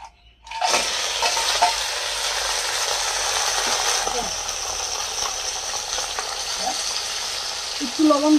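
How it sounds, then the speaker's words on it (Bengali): Crabs dropped into hot oil in a pan on a gas stove, with salt and turmeric, setting off a loud, sustained, close frying hiss that keeps going at an even level for several seconds. "প্রথমে কাঁকড়াগুলিকে আমি ভেজে নেব।"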